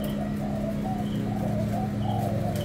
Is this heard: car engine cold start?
no